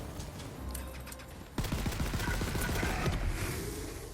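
Rapid burst of gunfire from a six-round magazine emptied at once in the fantasy shooter Tiny Tina's Wonderlands, a dense cluster of sharp cracks over busy game background noise, loud and close.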